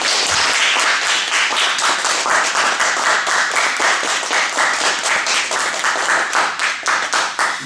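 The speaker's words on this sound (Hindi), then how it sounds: "तो मेरे आप सब बापू के लिए प्लीज, जो भरत भाई सभी के लिए तालियां बजाएं" A devotional gathering claps loudly and continuously, with dense, crisp applause for the full length.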